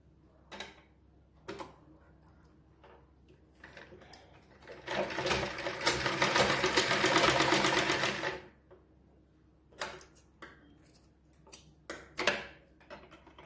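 Sewing machine stitching piping along the back neck of a girl's frock: scattered ticks and clicks, then a few seconds of rapid whirring stitching, followed by more clicks.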